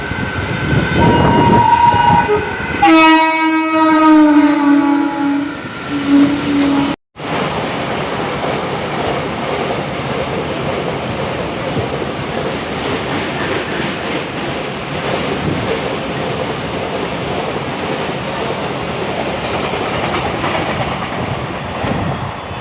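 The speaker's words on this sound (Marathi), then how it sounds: "एक नंबर जाम मोठी मालगाडी आहे" A train horn blares for a few seconds, then a long freight train rumbles and clatters past close by, loud and steady.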